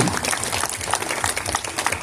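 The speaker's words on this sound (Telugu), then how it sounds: "ఈ ఇంత మంచి అమ్మాయిలు ఉన్నందుకు మాస్టర్కి ఇంకొకసారి క్లాప్స్ కొడదామని వారు కోరుకున్నారు." An audience at a 70th birthday celebration clapping for the master, steady applause from a crowd of many hands sustained throughout, fairly close and even.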